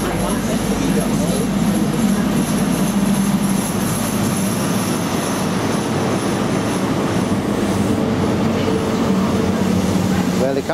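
A train runs through Bridgend station with a continuous loud rumble and steady wheel-and-engine drone lasting the whole time, and a person speaks over it.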